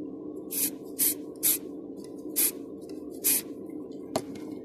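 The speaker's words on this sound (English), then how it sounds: "give it the old spray." An aerosol spray can sprayed onto a bin in five or six short, sharp bursts spaced about half a second apart, each hiss loud and near, with a steady low hum underneath.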